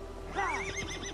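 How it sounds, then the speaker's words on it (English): A horse in the video game Assassin's Creed Valhalla gives a single clear whinny that rises and wavers over a steady game background hum. "Call my horse Kage."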